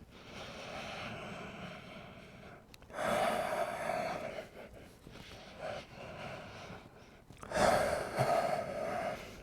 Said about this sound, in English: Breathe in deeply.